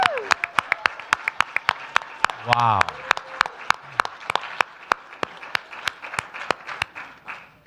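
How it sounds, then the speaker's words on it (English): Scattered, sparse hand claps from a conference audience honoring planner Renee, a handful of sharp individual claps spread evenly across the moment, with a brief voiced exclamation partway through. "If we could just take a moment and applaud Renee"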